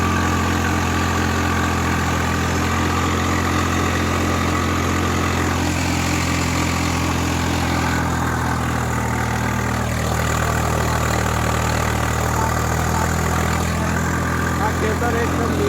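Swaraj tractor loaded with paddy in a green field, its engine running with a steady, heavy low drone that stays loud and constant throughout, while a voice talks over it.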